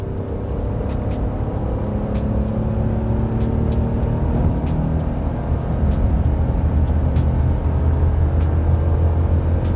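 Ford F-150 pickup with the 3.5L EcoBoost engine accelerating hard while towing on a highway, a steady low drone that swells in loudness over continuous road and wind roar, with no voices.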